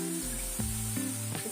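Cinnamon sticks and black cardamom pods fry in hot oil in a karahi for a mutton karahi, giving a steady close sizzle with a few soft bumps and a low hum underneath.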